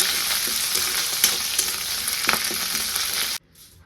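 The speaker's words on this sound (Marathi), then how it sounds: "एकदम कडक असा कढीपाला मी केलेला आहे तेलात तळलेला आहे" Curry leaves fry crisp in hot oil, giving a steady dense sizzle with a few sharp pops and crackles near the pan, before cutting off abruptly near the end.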